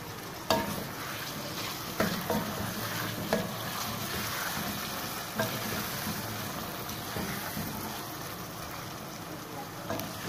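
Tomatoes and chillies frying with ginger garlic paste and onion for a karela curry, a continuous close sizzle broken by a few sharp stirring knocks.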